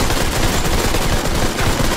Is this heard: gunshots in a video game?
yes